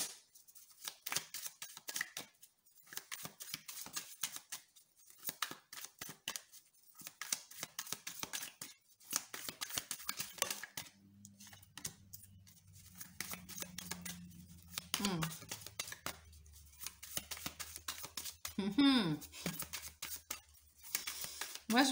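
Sacré-Cœur oracle cards are shuffled and cut by hand, giving quick papery riffles and snaps, interleaved with someone talking in French throughout.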